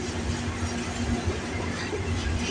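A westbound CN freight train passes Aldershot GO Station in Burlington, Ontario, producing a steady, close rumble with a low hum and a constant wash of rolling noise and no talk.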